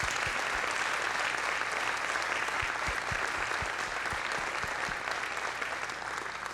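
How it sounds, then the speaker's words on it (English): An audience at a regional foundation's annual partner gathering applauds steadily for several seconds, a dense wash of clapping with some nearer distinct claps, fading slightly at the end. "Let's give them all a round of applause,"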